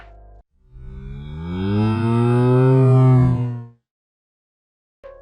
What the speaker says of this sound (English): here's what a cow from Minecraft sounds like slowed down